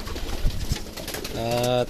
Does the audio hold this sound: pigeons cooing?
yes